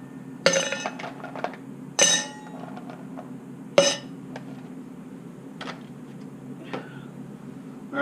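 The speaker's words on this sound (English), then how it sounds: "let's drop in a couple of lovely ice cubes" Ice cubes clink into a cocktail shaker in three distinct, bright impacts, each followed by smaller rattles and ticks, close and clear with no talking.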